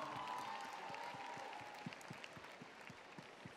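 An audience at a Miss Alsace 2022 live show applauds a contestant, a faint, distant spread of clapping with a few louder, individual claps standing out later, and no speech.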